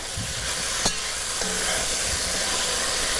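One-pot Italian chicken with chickpeas stirred as it simmers, a steady sizzling hiss with a couple of soft spoon knocks against the pot.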